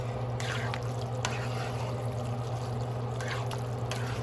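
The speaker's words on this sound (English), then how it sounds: "Pour the rest of the tomato and basil sauce inside of here" Tomato and basil sauce is poured into a pot of meat-lovers spaghetti, a thick glugging stream with soft splatters over a steady low kitchen hum, close and moderately quiet.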